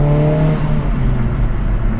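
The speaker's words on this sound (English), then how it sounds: "you can hear the turbo spool, you hear the blow off noise" Turbocharged engine of a Honda Civic Type R FL5 spooling up under partial throttle with a blow-off release, heard as a steady close engine drone with gliding tonal whines that fall in pitch, no voices.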